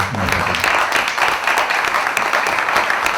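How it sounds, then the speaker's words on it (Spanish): An audience at a conference on Argentina's economy bursts into strong applause to welcome a speaker, a loud, dense round of clapping filling the room. "lo recibimos con un fuerte aplauso"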